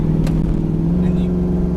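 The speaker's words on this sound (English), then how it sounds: "the exhaust just sounds incredible" Car exhaust droning steadily while the car climbs a hill with overdrive off, a loud, constant low hum heard from inside the cabin with windows up, with a brief faint voice over it.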